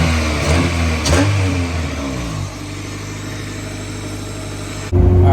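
A Honda car engine after an OBD0-to-OBD1 ECU conversion, running with the intake off, revs up loudly and settles back to a steady idle, then rises again sharply at the end, close and continuous.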